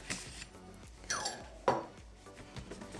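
A small kitchen knife is picked up and handled, giving a few light metallic clinks and scrapes against other utensils, close and fairly quiet with short gaps between touches.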